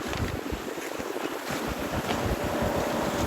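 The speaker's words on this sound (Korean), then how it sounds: "지금 칼바람이 불고 있는데요" A biting cold wind buffets the microphone at an outdoor press conference, making a steady, loud rumbling roar that lasts throughout.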